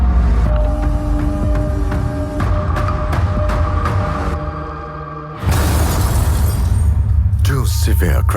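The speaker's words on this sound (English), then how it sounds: "The same car now faces a second high-severity side impact." A Tata Tiago CNG car slams into a barrier in a high-severity side impact crash test, a loud sudden bang with shattering and crunching debris over a rumbling background, followed by settling rattles.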